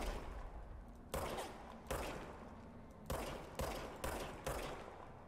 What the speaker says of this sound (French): Tirer avec l'arme de service.